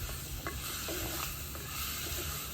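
Curry sautéing in a pan, a low, quiet sizzle under a broad steady hiss, with a few soft scrapes of stirring, close by and without talking.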